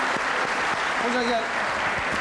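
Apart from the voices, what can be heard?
studio audience applause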